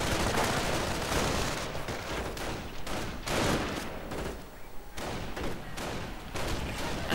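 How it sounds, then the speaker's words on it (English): MG42 machine gun fire in a World War II strategy video game rips in long rapid bursts with brief pauses, mixed with other distant gunshots, steady and fairly loud without speech. "Riflemen suppressed by the MG42."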